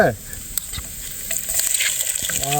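Spices sizzle and fry in hot oil while being stirred at a riverside campsite, a continuous crackling hiss with scraping stirs and a few clinks, heard close up.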